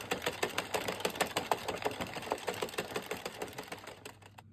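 A knitting machine works yarn into a scarf, with its carriage making a rapid, regular mechanical clatter of close ticks that run for several seconds and then stop. Nobody speaks.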